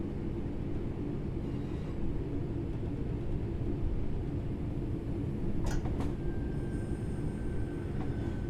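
In the Train Sim World 4 video game, a train coasts on level ground with a steady low rumble of wheels on rails, joined by a few brief clanks and a faint high tone.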